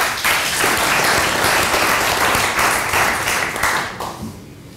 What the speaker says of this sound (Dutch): Applaus voor Roland.